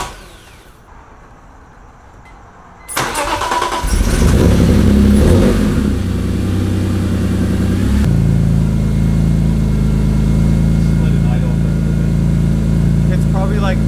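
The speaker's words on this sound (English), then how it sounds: "We'll start the car really quick." A BMW E46 M3 with idle problems cranks briefly and starts after quiet talk, then the engine revs up and settles into a loud, steady, slightly uneven idle that continues to the end.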